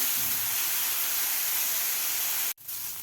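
Grated carrot sautéing in ghee, giving a loud, steady, close sizzling hiss that runs unbroken and then cuts out sharply for a moment before resuming.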